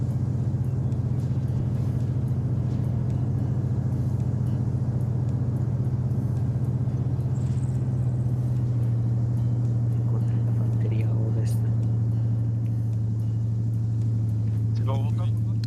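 A military truck engine in the video game Arma 3 hums in a continuous deep rumble nearby, with a slight shift in pitch partway through, while a voice talks over it.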